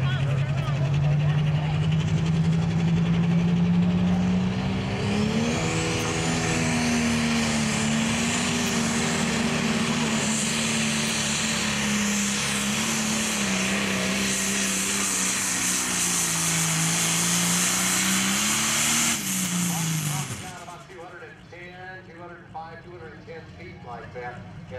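A Pro Stock pulling tractor roars down the track at a county fairgrounds tractor pull, a loud sustained engine howl rising in pitch then dropping off abruptly, with an announcer talking over it.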